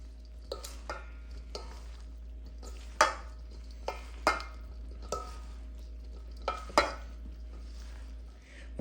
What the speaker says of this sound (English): And let's go ahead and gently fold it together.